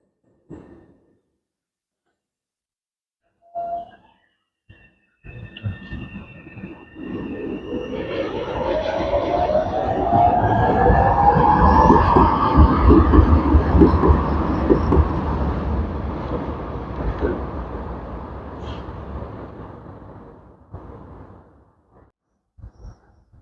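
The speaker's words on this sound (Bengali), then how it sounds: "এই যে আমাদের ট্রামের অবস্থা দেখুন আর এদের ট্রাম দেখুন" A tram rumbles past on rails in suburban Milan, building from a low approaching roar to a loud close pass with a rising wheel squeal, then fading away.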